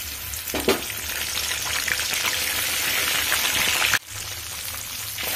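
Ginger paste sizzles in hot oil with dry red chillies and whole cumin, a steady close frying hiss with stirring scrapes and a brief dip partway as the pan is stirred.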